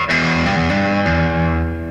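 A heavily distorted electric guitar played through a ProCo Lil Rat distortion pedal plays sustained chords, changing several times, thick and saturated with a buzzy edge.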